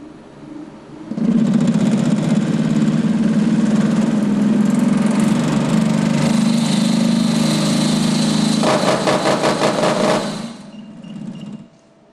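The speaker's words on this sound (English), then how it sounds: "just so you can see the violence which occurs with a rotor that's this badly out of balance." A Rotor-Mate centrifuge with a badly out-of-balance rotor roars up into a loud, droning vibration that turns into a rapid, pulsing shudder before the motor shuts off and the sound cuts out.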